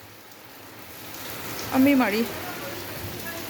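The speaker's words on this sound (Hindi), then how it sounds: "देखते ही देखते इतनी तेज़ बारिश शुरू होगी" Heavy thunderstorm rain pours down in a steady, even hiss that holds throughout, while a voice briefly speaks over it midway.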